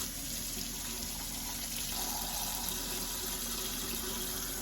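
Tap water runs steadily over an antique piece being rinsed at a sink, a continuous close splashing rush with no pauses and no voices.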